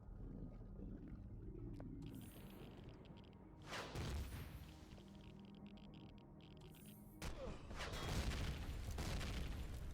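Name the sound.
rocket hit and explosion in video game Empyrion Galactic Survival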